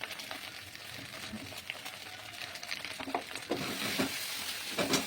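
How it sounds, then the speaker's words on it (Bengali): Kochu (kharkol) leaf paste with salt and turmeric fries in oil, giving a soft, steady sizzle with faint stirring scrapes that rises slightly toward the end. "এই পাতা বাটাটা দিয়ে এর মধ্যে নুন হলুদ দিয়ে এটাকে ভালো করে কষিয়ে একদম শুকনো করে নিতে হবে"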